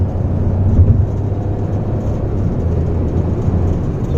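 A Hyundai i20 with a DCT gearbox accelerating hard in sports mode on a city drive, a loud continuous low engine and road rumble heard from inside the cabin, steady throughout.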